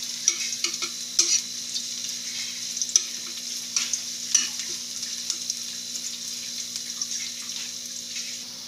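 Garlic sautéing in a pan for Filipino adobong galunggong, a soft steady sizzle with occasional scraping stirs and light clinks, heard close and alone with no voices.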